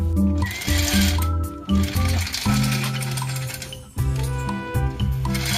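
Motorized shade film system in a strawberry seedling greenhouse running through an operation test, a loud close mechanical whirring with rhythmic rattling and clinking, its pitch shifting as the motor starts and stops.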